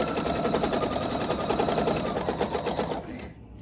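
A PFAFF domestic sewing machine stitching at speed during free motion quilting, a loud, fast, even needle rattle running steadily close by, then stopping near the end.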